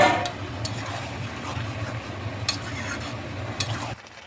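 Spices and water being stirred together in a cooking pan for Bengali dal dhoka, a soft continuous scraping and sizzling with a few sharp utensil clinks against the pan, ending abruptly.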